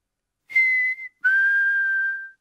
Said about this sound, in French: Maman Pig sait siffler.